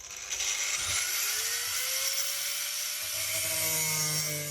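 A power saw grinds steadily through metal with a high, harsh whine that shifts pitch as the cut progresses, continuous and close.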